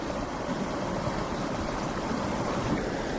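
A small Wyoming stream runs in a steady, broadband rush of water, continuous and fairly close for the whole stretch, with no voices.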